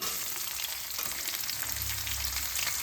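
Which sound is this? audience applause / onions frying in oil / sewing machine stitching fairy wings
onions frying in oil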